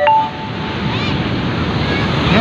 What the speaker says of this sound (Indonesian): Ombak besar datang.